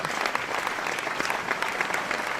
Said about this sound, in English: That's right, clapping. The laughter of hands.